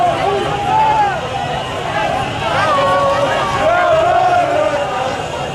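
A jubilant crowd surrounding Maurice Kamto's vehicle in Bafoussam, with a dense hubbub of cheering and shouting voices, close and continuous, and a narrator's voice talking over it.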